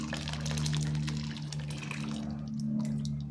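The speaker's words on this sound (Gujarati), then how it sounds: "હવે આપણે એમાં બાફેલી દાળ ઉમેરીશું" Boiled lentils are poured into simmering sambar with mixed vegetables, spices and water, giving a steady, close liquid pouring and filling sound throughout.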